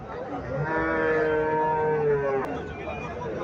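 A local indigenous cow gives one long, loud, drawn-out moo close by, with low background murmur and a brief click near its end.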